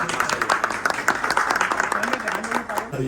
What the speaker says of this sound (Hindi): ये सब तालियां बजाए यार।